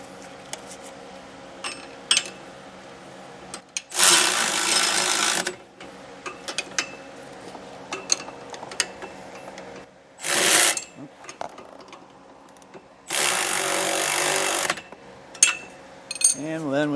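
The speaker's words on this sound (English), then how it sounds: "I'm going to snug these down with a 3/4 inch socket and wrench" Socket wrench snugging down bolts while fitting a leaf spring suspension kit on a 2021 Grand Design RV, delivered as three bursts of rapid ratcheting clicks separated by quieter stretches with scattered tool clinks.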